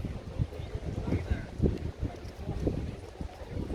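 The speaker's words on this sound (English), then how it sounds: "It's a wee bit windy today" Steady broadband wind rumble buffeting the microphone outdoors on the Los Cristianos promenade in Tenerife, continuous and fairly loud throughout with gusty swells.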